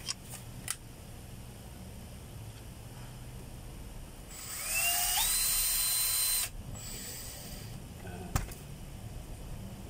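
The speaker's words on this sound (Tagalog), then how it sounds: "Lalagyan na natin yung tornilyo mga kabay na dalawa." A small electric screwdriver whirs for about two seconds, rising in pitch, while driving a screw into a light switch being replaced, with a few faint clicks before and after in an otherwise quiet room.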